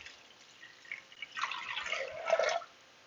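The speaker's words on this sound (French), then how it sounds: "On va mettre de l'eau jusqu'à temps qu'on a notre 600 g." Water pours from a tap into a Thermomix bowl during cooking, a soft trickle that builds into a fuller splashing stream before stopping abruptly, close and fairly quiet.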